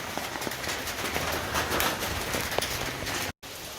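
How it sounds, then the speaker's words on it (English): Pouring rain outdoors beside a Ford Transit, a dense continuous patter of drops on surfaces, close and steady with a brief dropout near the end. "Now, as you see, pouring rain out here"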